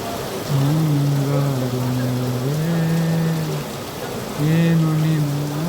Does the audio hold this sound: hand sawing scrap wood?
no